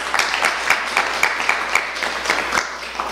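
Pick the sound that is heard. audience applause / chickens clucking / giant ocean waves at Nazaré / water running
audience applause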